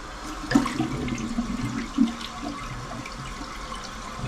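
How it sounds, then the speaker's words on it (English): Toilet flushing in a bathroom after a new toilet installation, a rushing gurgle of water with two sharper surges and a draining swirl, close and moderately loud. "Now I'm going to give it one more flush"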